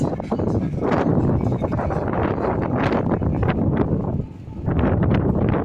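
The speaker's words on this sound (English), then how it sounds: "It's a bit windy" Strong wind at Crosby Beach, Liverpool, roars and buffets the microphone in loud, rumbling gusts, easing briefly before surging again.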